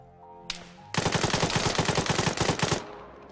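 Automatic gunfire from a rifle in the game Arma 3, one short shot and then a single sustained burst of rapid, evenly spaced rounds lasting about two seconds, loud and close, with no talking.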